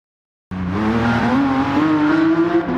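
A Lamborghini Countach QVX on a flying lap in the racing game Machine Head Racing: after half a second of silence the engine bursts in with a loud, sustained drone whose pitch climbs slowly as the car accelerates.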